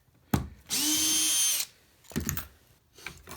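A power drill backs screws out of a subfloor, one loud steady whine lasting about a second after a sharp start, followed by shorter bursts and clicks close to the microphone.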